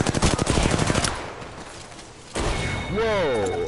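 Rapid machine gun bursts ring out in a PlayStation 4 shooter game, a loud rattling volley at first, then quieter battle noise and a swooping effect, with a player's voice briefly heard.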